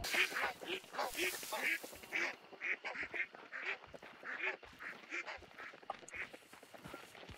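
Ducks quack in the video game Hunt: Showdown, a steady run of nasal calls in quick, uneven clusters, moderately near and heard on their own without speech.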